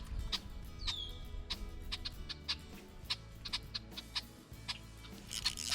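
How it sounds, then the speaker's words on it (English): Agitated blackbirds near their nest call repeatedly by a fishing spot, sharp chirps and chacks in a rapid uneven series, one rising whistle, fairly close over soft outdoor background. "I must be right near a blackbird nest because they're flipping out over here."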